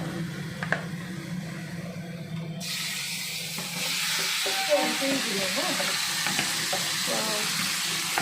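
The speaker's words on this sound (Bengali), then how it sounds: "এবার আমি মাংসগুলো দিয়ে দেবো" Chicken pieces for methi chicken drop into a hot pan in a karahi, setting off a steady, fairly loud sizzle and frying hiss that swells and stays broadband; faint voice-like sounds appear early.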